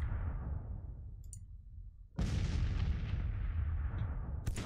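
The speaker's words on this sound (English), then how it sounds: "Yeah, go counter battery fire." Artillery counter-battery fire in the Civil War strategy game Grand Tactician, with heavy booming cannon blasts in quick succession, one sharp report midway, each trailing into a long rumbling decay, loud and without speech.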